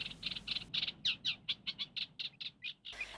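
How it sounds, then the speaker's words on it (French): Birds waking at dawn in a lagoon give a fast run of sharp, high chirps that repeat evenly and sit close and clear over a low background hum, with no voices. "Dans la lagune, on entend les vers des oiseaux qui se réveillent de l'engourdissement de la nuit"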